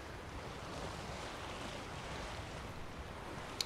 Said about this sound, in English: Splish splash. I bet this water's absolutely freezing.